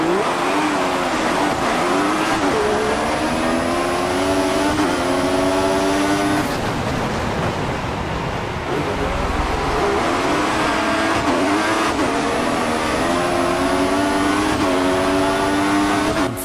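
F1 2014 PC game race cars at Austria's Red Bull Ring, a loud continuous high-revving engine whine rising and falling through gear shifts, with a brief dip mid-way and no speech.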